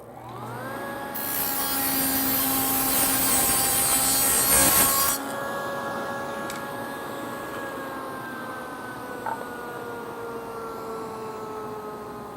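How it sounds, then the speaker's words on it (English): Table saw fitted with a dado blade spinning at a steady whine, then a loud rasping test cut through wood for a few seconds before the blade runs on freely, ringing steadily afterward. "I'm going to make a test cut."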